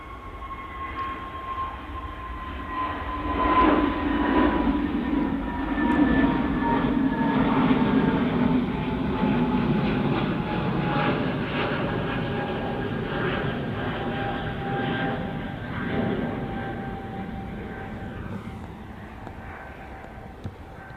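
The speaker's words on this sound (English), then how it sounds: "our next departure is a BA shuttle" A British Airways Airbus A320 shuttle departs Manchester Airport for London Heathrow, a broad jet roar with a high engine whine that swells, peaks and slowly fades over about twenty seconds.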